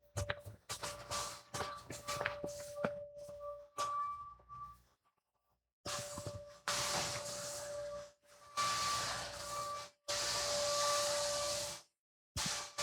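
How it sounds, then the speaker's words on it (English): A vacuum cleaner running indoors, a steady hissing whine with a constant motor tone that cuts in and out in several bursts, with brief silent gaps, at moderate volume. "sorry, everybody, that's a vacuum"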